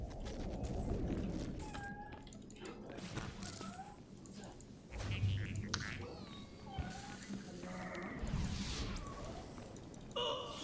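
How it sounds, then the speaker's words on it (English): A little cat meows several times in short, rising calls, faint and somewhat distant, mixed with busy video game sounds and background noise. "there's a little cat on the stream meowing"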